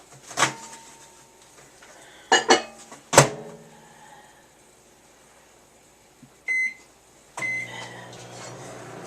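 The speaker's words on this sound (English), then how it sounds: "I'm going to have to put this back in the microwave." Several sharp clunks and clicks, a couple of short electronic beeps, then a low steady microwave oven hum starts up and keeps running.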